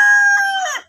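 A rooster crows once at close range, a bright harmonic call that holds and then bends downward before cutting off, loud and clear with no talk over it.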